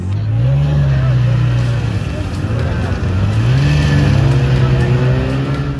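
A snow bike engine at Sonmarg in Kashmir drones loud and close, its pitch rising and falling as it revs during the ride.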